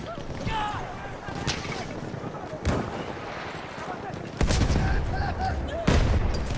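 Battlefield 1 combat brings scattered gunfire and sharp, loud sniper cracks, several distinct bangs spaced a second or two apart over a constant background rumble, with someone talking now and then.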